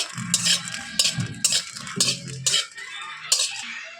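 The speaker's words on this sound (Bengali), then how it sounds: "লঙ্কাটা আমি ভালো করে একটু নাড়িয়ে চাড়িয়ে নিচ্ছি কড়াইতে" A utensil scrapes and clatters against a metal wok in repeated stirring strokes while chillies are stirred in it, close and fairly loud, with no talking.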